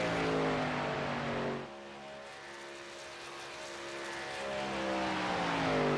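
Race trucks at Talladega Superspeedway in iRacing drone past with layered high-pitched engine tones that dip as one pulls away, then swell again as more trucks close in, a loud continuous roar.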